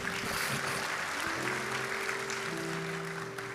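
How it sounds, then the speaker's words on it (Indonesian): A church congregation applauds steadily for several seconds at a worship service, the dense clapping blended with sustained music tones and no speech over it. "Berikan tepuk tangan kita untuk Tuhan."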